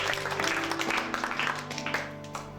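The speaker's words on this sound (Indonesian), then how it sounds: "Yang percaya berikan tepuk tangan bagi Allah." A Pentecostal church congregation claps hands during worship, a dense patter of clapping over sustained music and singing.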